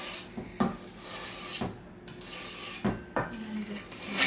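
Cookie dough for kitchen sink cookies being smoothed out in a tray, close scraping and rubbing strokes with a few sharp clinks of utensil against the tray, no talk.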